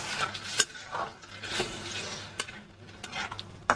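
Tomato curry with turmeric, cumin powder, green chilli, salt, a bay leaf and a little water cooking down in a pan alongside frying potatoes, heard as soft stirring and scraping with faint simmering and occasional sharp utensil knocks.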